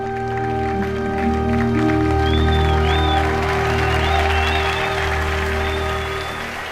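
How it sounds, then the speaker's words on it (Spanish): Sustained applause from a church audience fills the clip, loud and dense, with musical tones and a sustained hum beneath and faint cries over the clapping. "el aplauso para todos los que siembran y hacen esto posible"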